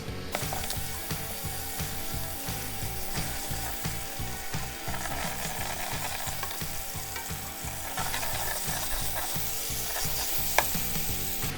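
Garlic, chili, anchovy and capers sizzle in a pan for spaghetti with aglio, olio and peperoncino. A steady, close frying hiss runs throughout with a rhythmic stirring and scraping pulse underneath, and no one talks.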